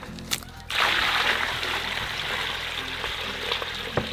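Water poured from a bucket into a boiler to fill it, a steady, rushing splash starting abruptly after a short pause and continuing unbroken, with faint knocks and clinks in the background.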